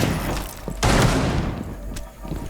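Gunfire in Rainbow Six Siege, a close rattling burst of shots followed by scattered single cracks, with players' voices mixed in.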